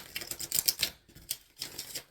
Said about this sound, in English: Spirit, I'm shuffling for Libra.